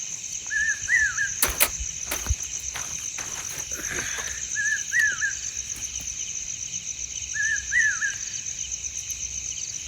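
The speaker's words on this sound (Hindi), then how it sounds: "ये रात का पंछी लगता है।" A night bird calls in a forest by a lake during a rainy camping trip, giving a short rising-falling call three times at even intervals over a constant high insect trill, with a few sharp knocks near the start.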